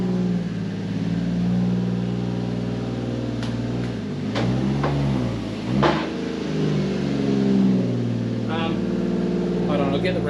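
A Toyota JZX100's engine idles and rises briefly as the car drives onto a hoist, with a steady low rumble throughout and a couple of short revs near the middle.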